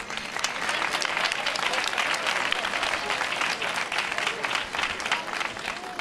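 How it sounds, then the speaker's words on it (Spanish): A crowd at an outdoor Christmas lights and flag-raising event in Quintana de la Serena applauds the children, dense sustained clapping from many hands, loud and close, lasting the whole stretch. "Por todos ellos os pido un fuerte aplauso"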